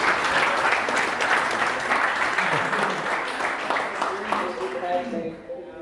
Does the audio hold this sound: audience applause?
yes